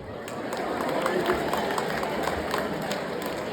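Students applaud in a school workshop, a dense, sustained burst of many hands clapping together, fairly loud and close, with a few voices mixed in.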